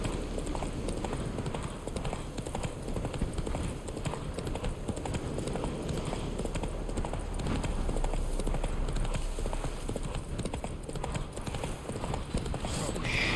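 Roach the horse gallops in The Witcher 3, a steady, driving clip-clop of hooves running continuously at close range over a busy game soundscape.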